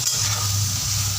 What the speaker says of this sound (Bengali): সয়াবিন ভাজা হচ্ছে,